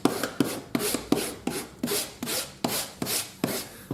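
Leather glued onto a wooden buff stick is scratched up with a rasping tool in quick back-and-forth strokes, a loud, close, rhythmic scraping of about ten even strokes with no talking.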